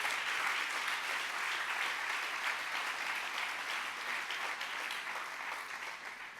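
A church congregation gives a long round of applause in praise during a sermon. The clapping is dense, even and sustained, easing slightly toward the end, with no one speaking over it.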